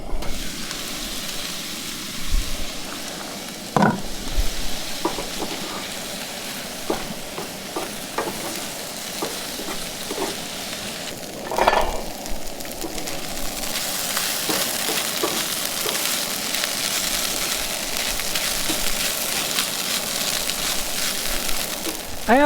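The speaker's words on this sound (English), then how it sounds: "just cooking up some veggies" Vegetables sizzle steadily in a pan on a camp stove in the High Sierra, with repeated scraping and clacking strokes of a utensil stirring them, close and fairly loud, with no talking.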